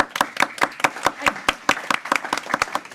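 A crowd applauding: rapid, steady clapping from many hands, fairly close and loud, continuing without a break.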